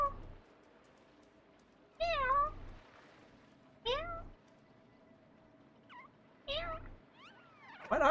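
A cat meows repeatedly, making about five separate loud, close meows spaced a second or two apart across quiet gaps, with a few fainter high chirps between them.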